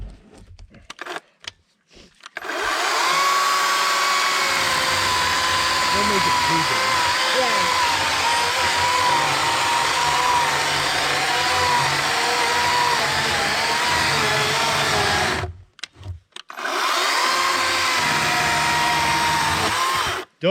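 A chainsaw cuts wood at a campsite on a Jeep camping trip, a loud, steady, high-pitched engine whine that runs for long stretches, cuts out briefly, then starts up again.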